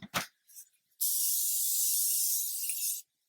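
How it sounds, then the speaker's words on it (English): A few faint taps and clicks, then one steady two-second hiss of a makeup setting spray aerosol, close and sharp, stopping abruptly. "we're just gonna go over a little bit here with our setting spray"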